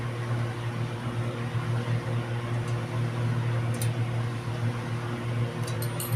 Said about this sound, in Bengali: এবার একটা মিক্সিং বোলের মধ্যে দিয়ে এখন বেটে নেব